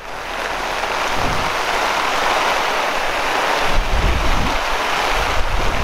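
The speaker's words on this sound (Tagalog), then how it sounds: "Sobrang lakas pa ng ulan." Heavy rain pours steadily during a motorcycle ride on a road in Samar, Philippines, heard as a loud, constant broadband roar mixed with wind buffeting the microphone, with no voices.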